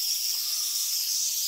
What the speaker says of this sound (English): let's try this whistle now.